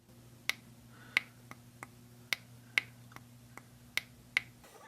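The rubber tail button of a Wuben L3 flashlight is pressed repeatedly. Sharp, close clicks come in pairs, with the second click of each pair slightly louder, over a faint steady hum.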